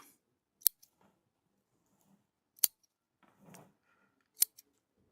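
Pruning shears cut back overlong bonsai branches with three crisp, close snips spaced about two seconds apart, quiet in between except for faint handling rustles.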